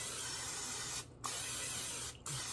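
Butter-flavor cooking spray hisses from a can onto sliced bread in a home kitchen, two long close bursts separated by brief pauses.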